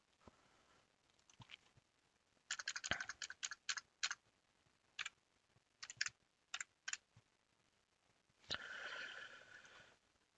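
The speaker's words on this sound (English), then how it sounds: "Okay, maybe I'll type in sweet corn pests." Someone types a search on a computer keyboard, sparse, separate key clicks then a quick cluster of taps, close and fairly quiet, ending with a longer rustling burst.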